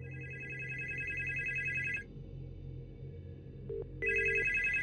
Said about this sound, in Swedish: Så James ringde sin mor.